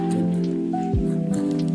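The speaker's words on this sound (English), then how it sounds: "the rain's getting a bit louder again" Rain falling outside, a steady soft patter heard from indoors, continuous and low behind a constant background hum.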